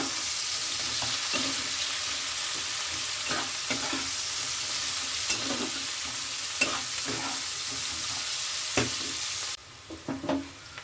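Onions fry with a little sugar in a pan, a steady close sizzle with a spoon scraping and stirring at intervals; near the end the sizzle drops off and a few louder knocks follow. No talk.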